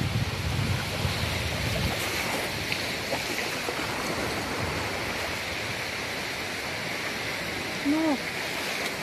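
Waves wash continuously onto a Baltic Sea beach with steady broadband surf and wind rushing over the microphone, and a short burst of noise near the end.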